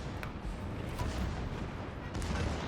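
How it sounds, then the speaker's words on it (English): Heavy cruiser guns of an Atago/Takao-class ship in World of Warships fire a salvo, with sharp blasts near the start and again near the end over a steady rumbling game background. "I put one more salvo in, just cause, and then I swing my guns back around."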